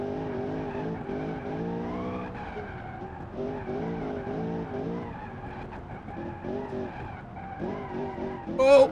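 A modified off-road muscle car in the driving simulator revs hard and steady with harmonic engine drone, tires skidding and squealing throughout, ending in a sharp louder squeal.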